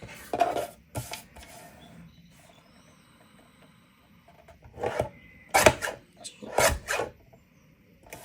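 Paper being trimmed for a handmade notebook gives a few sharp, close cutting or chopping strokes: two early crisp cuts, then a quiet stretch, then a cluster of several firm strikes near the end.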